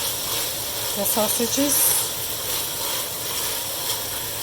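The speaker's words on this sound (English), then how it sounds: "Now I'm sauteing onion, garlic, and the sausages." Onion, garlic and Italian sausages sautéing in a pan give off a steady hiss and sizzle throughout, with a voice talking briefly over it.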